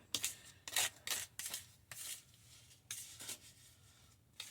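Cane sugar is stirred into a lemon pie filling with a spoon, giving a series of close, irregular scraping and rasping strokes in bursts with short pauses between.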